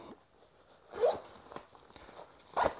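A leather zip on a padded binocular accessory case is pulled open with two short rasping zipper strokes over soft handling rustle, close and fairly quiet.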